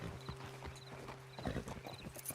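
Horses walk at a steady pace through Red Dead Redemption 2, hooves clip-clopping in an even rhythm close by, with a faint ambient hum underneath and no talk over them.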